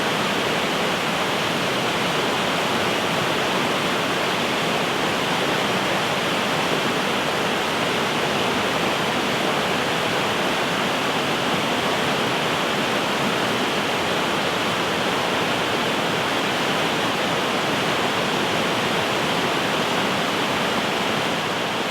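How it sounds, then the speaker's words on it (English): A fast, swollen river pours through a bridge in Wales, producing a loud, steady roar of rushing water that holds constant and fills the whole scene without pause or voices. "the river's really pumping, especially through the bridge there"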